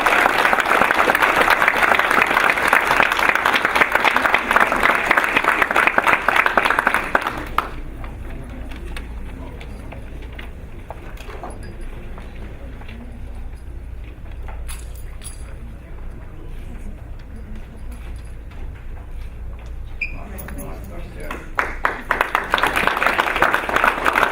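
At a Board of Education meeting, an audience applauds loudly and steadily for several seconds, drops to a quieter stretch of room noise with scattered sounds, then resumes clapping near the end.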